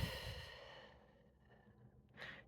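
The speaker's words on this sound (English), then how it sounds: "Gently elongating that exhale." A soft, slow exhale through the nose during a guided calming breathing exercise, a faint airy sigh that tapers off, followed by a brief quiet breath near the end.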